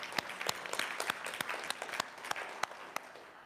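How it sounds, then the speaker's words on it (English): Applause from a church congregation at a Sunday service, a moderate steady patter of many hands with a few sharper individual claps standing out. "Give them a round of applause"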